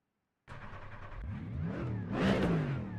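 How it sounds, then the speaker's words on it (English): Silence breaks into a race car engine in the iRacing video game, revving up through rising pitch sweeps and building to a louder, higher-pitched roar by the end. "this car sounds so good."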